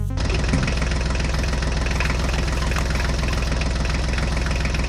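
A mini tractor engine runs loud and close as it pulls away, a steady, dense knocking chug that never lets up, with no voices over it.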